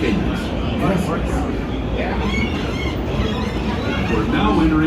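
The Disneyland Railroad train makes a loud, steady rumble and rattle as it rides along. Voices come through faintly under the continuous rolling noise.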